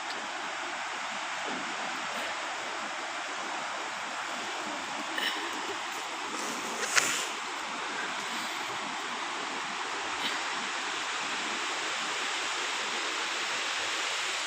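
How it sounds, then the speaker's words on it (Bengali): River water rushes in a steady, broad, unbroken roar, near and loud throughout, with a few faint knocks and no talking. "আপনারা পানির শব্দ শুনতে পাচ্ছেন"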